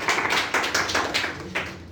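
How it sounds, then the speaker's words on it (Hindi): Group applause during a Hindi typing test result announcement, a short burst of sharp, close hand claps in quick uneven rhythm, loud and alone without talk. "एक बार सभी जोरदार तालियां बजा दो"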